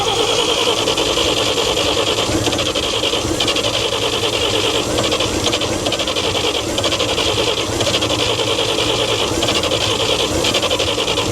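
A flooded engine in a 1942 Chevrolet 4WD truck cranks over and over, a dense, steady mechanical churn that fills the whole stretch without catching, loud and close throughout.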